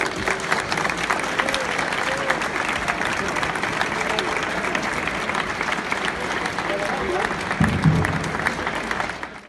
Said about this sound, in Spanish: Quiero que le deis un fuerte aplauso y abrazo a Lorenzo Tin.